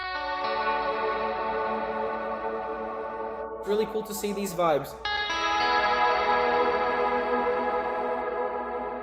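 A SpaceWalk Saturn reverb pedal on its Dark Galaxy reverb setting gives sustained, washy harmonic tones with long decay, briefly broken by a burst of louder, processed sound before the shimmering wash resumes, with a voice speaking over it.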